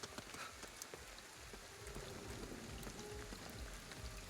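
Rain falls steadily in the video game Ghostwire: Tokyo, a soft, continuous patter of drops that stays quiet and even with no talking.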